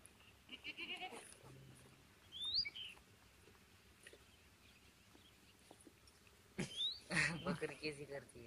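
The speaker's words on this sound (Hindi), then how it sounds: "बकरी कैसी करती है ये" A goat on a farm bleats a few times at moderate distance, with short cries spread through the clip, while people talk nearby.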